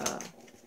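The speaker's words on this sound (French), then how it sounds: "si vous entendez aboyer, c'est qu'il y en a deux." A single short dog yelp sounds at the start, fairly faint and fading quickly into quiet room tone.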